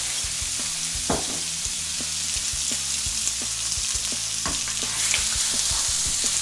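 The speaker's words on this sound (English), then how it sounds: "Marinated in rice wine, sesame oil, fish sauce and soy sauce. And just going to be flash fried in here." Pork marinated in rice wine, sesame oil, fish sauce and soy sauce flash frying in a pan, a continuous bright sizzle punctuated by regular scraping and knocking as it is tossed and stirred.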